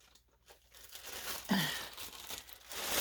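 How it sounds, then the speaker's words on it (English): Plastic bags holding yarn crinkle and rustle close by, with a brief louder crunch partway through amid soft handling noises. "My yarn is in plastic bags."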